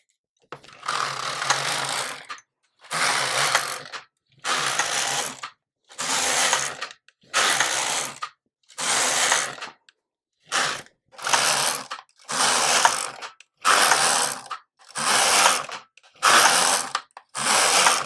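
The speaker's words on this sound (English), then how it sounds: "Yes, it is knitting wonderfully." A knitting machine carriage knitting yarn slides back and forth in about a dozen steady passes, each a loud mechanical ratcheting whir separated by brief pauses, close and without talk.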